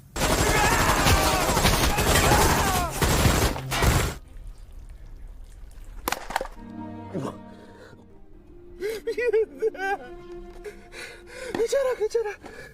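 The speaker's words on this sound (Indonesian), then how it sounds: "Gisu yang murka pun memberondong para pengungsi dengan membabi buta." Gunfire rakes a crowd of refugees in a Badland Hunters film scene, a dense, loud burst of rapid shots for the first four seconds. A single sharp crack follows, then voices cry out and speak over quieter background sound.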